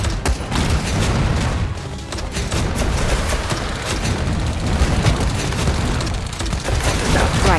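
Halo combat is a relentless wall of sound: booming grenade blasts mixed with continuous rattling gunfire, loud and close, with soldiers shouting faintly underneath.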